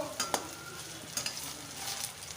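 Soft sizzling of drumstick-flower fritters frying in oil with a few sharp scrapes and taps of a spatula stirring the pan.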